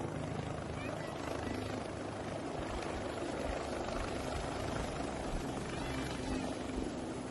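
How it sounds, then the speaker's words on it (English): A Brazilian police helicopter's rotor and engine roar steadily and loudly throughout, a dense continuous wash of noise with no pause. "There's a Brazilian police helicopter that takes off and doesn't really go"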